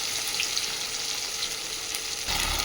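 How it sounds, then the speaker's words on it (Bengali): Chopped onion and slit green chillies sizzle steadily in hot oil with whole spices, a continuous close frying hiss that brightens briefly near the end. "দিয়ে এগুলো সব ভালোভাবে লাল করে ভেজে নেব"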